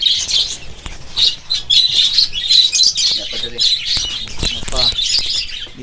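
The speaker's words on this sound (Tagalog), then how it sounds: "Madami dito mga kaibon." Rainbow budgerigars in an aviary chirp and squawk in a dense, busy chorus of shrill overlapping calls, with occasional wing flutters and a person talking quietly in the background.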